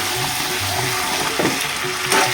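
Food frying on a low gas flame in a home kitchen, stirred now and then: a steady soft sizzle with a few faint scraping stirs and light clinks, no talk.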